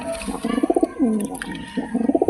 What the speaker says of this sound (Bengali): এই হলো একটা জোড়া বেলডাঙা হাটের কবুতর